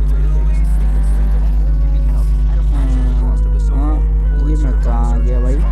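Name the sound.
car driving in video game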